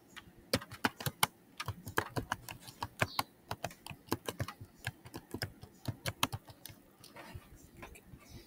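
Fingers tap out on a computer keyboard while HTML and Tailwind CSS code is written, in quick uneven bursts of sharp clicks with brief pauses between runs, close and clear against a quiet room.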